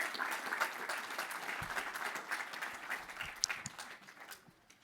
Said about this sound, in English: Another warm round of applause for our amazing panelists here today